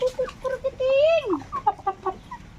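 Native chickens cluck in quick, choppy bursts close by, with one longer drawn-out squawk partway through, against a faint outdoor background.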